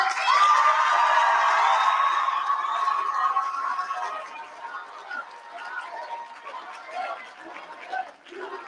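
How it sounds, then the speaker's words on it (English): Awards-ceremony audience at a Texas debate event clapping and cheering, loud dense applause at first that gradually thins and fades over several seconds, with some crowd chatter mixed in. "if you could give them another round of applause."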